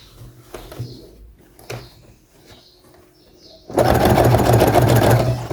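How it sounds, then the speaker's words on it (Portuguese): A sewing machine fitted with a size 16 needle stitches a seam on a butterfly romper. Light tapping and handling come first, then the machine starts with a loud, steady whirring run near the end. "Costurar devagar com a agulha 16, tá?"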